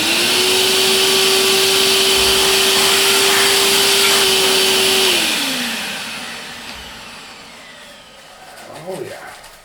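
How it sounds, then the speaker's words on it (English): A shop vacuum roars loudly and steadily as it sucks up metal chips in a machining workshop, then its motor spins down and fades out over the last few seconds. "the rest will be vacuumed"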